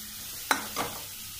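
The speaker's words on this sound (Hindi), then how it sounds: "हम इसको अभी 1 मिनट के लिए भूनने देंगे अच्छे से" Garlic and green chili frying in a pan over a medium flame, a quiet background crackle with two short spatula scrapes and stirring sizzles, no speech.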